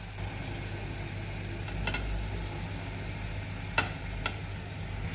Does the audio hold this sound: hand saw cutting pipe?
no